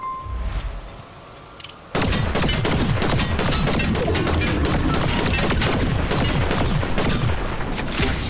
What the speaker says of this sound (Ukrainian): Ззаді, ззаді йде стрілянина.